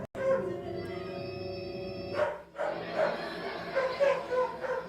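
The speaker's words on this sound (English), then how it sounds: "Listen to those dogs. They're just relentless." Several dogs bark and yelp over and over at moderate distance, with whining tones between the barks and some people talking in the background for the full five seconds.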